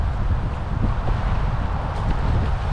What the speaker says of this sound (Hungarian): Van egy kis szél, hát nem tudom milyen lesz itt.